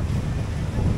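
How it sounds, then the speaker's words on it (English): Steady, low rushing wind buffets the microphone throughout on an island coast, a dense rumble with no voices present. "Quite windy now."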